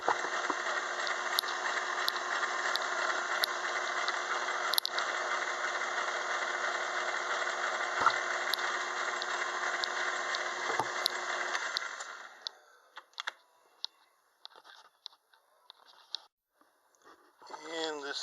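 A metal lathe carriage traveling under power through a gear set on the lead screw, a steady whirring mechanical hum with faint rhythmic ticks that stops about two-thirds through, leaving quiet clicks and handling noises.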